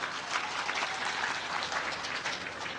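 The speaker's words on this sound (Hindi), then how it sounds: "ताली बजाइए जोर से बढ़िया से।" Audience at a Hindu religious discourse applauds, a steady wash of many hands clapping heard at moderate, somewhat distant level with no talk.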